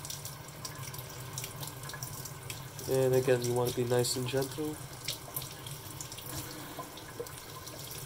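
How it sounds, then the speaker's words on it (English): Clay pebbles from a hydroponic system are rinsed under a running kitchen tap, the water hissing steadily into the sink and swelling briefly louder midway, while a person talks over it. "So we're just gonna wash that off. Give that a good rinse."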